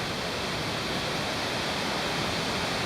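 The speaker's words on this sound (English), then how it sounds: "There's the river right down there." A river in Linville Gorge flowing below a spring campsite, heard as a dense, steady rushing wash of water that stays even throughout with no other sounds on top.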